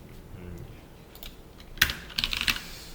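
Code is typed on a computer keyboard, with a few soft taps followed by a quick burst of sharp, close key clicks.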